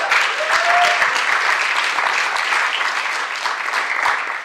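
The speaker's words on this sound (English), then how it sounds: "Let's give him a round of applause." A conference audience applauds steadily as a speaker joins the host on stage at a college elevator pitch competition, a dense, even wash of clapping that stays loud throughout and tapers only slightly at the end.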